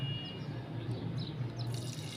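Milk poured into a pan of béchamel made with ghee, flour and spices, a steady liquid pouring and splashing sound running evenly throughout, close and fairly quiet, with no talking.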